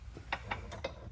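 Metal security pin slid into a golf cart trailer hitch receiver, giving a few light clicks and ticks close by, with a quiet room hum behind them.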